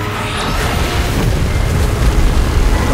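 A loud, rumbling explosive roar with a deep booming low end stays steady and heavy through the short stretch, as Mechagodzilla fires an energy beam that explodes.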